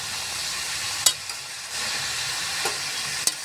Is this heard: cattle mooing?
no